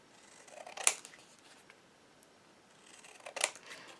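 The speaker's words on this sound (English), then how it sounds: "I'm going to cut this one here a bit more." Scissors trimming paper wall decor, two quiet, close snips about two and a half seconds apart against near silence, with faint paper rustle between cuts.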